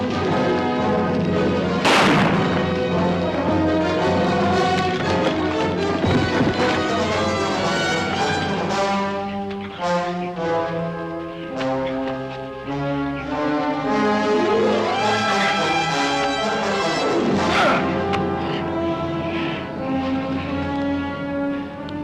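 Pistol shots ring out in a 1958 television western, two sharp cracks spaced well apart and set against loud, swelling orchestral music.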